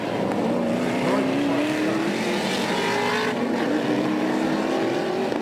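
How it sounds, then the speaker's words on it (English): A Tamaki ITM V8 Ford Falcon race car circulates at Pukekohe, its loud engine roaring steadily close by and rising and falling in pitch as it works through the gears. "the Tamaki ITM Ford Falcon of Nigel Carl cuts the grass, overshoots the chicane like other drivers have done."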